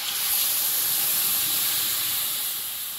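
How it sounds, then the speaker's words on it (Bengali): Water hitting potatoes already fried red in a hot pan with garlic and chili paste gives a loud, steady steam hiss that holds for about three seconds and tapers slightly toward the end, with no voices. "আলুতে এবার জল দিয়ে দেবো"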